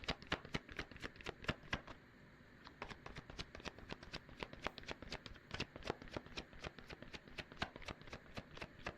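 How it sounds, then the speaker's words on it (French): Tarot cards riffled and shuffled close up, a rapid run of crisp papery flicks in steady rhythm with a brief pause, no talking. "Allez, je prends une petite carte encore."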